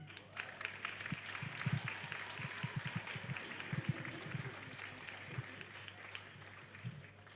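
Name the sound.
audience applause at jigsaw puzzle competition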